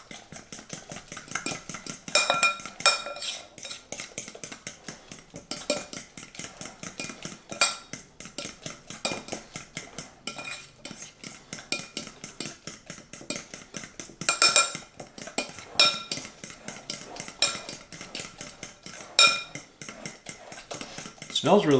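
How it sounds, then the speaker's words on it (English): A utensil mixes keto doughnut batter in a bowl, giving a fast, steady run of scraping and clinking strokes against the sides for the whole stretch, close and clear with no talk over it. "I'm just going to mix it all together"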